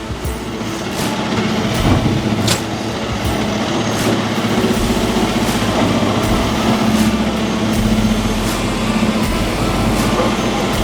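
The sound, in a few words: truck driving on a landfill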